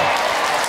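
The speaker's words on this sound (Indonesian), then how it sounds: "Tepuk tangan buat Ibu Maria." An audience claps at an Islamic sermon, a brief, even burst of applause heard alone.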